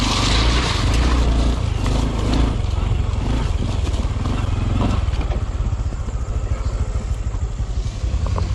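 A 450 dirt bike blasts past on a trail ride, its engine a loud, close roar that peaks early and then fades and roughens as it pulls away, with no talking over it.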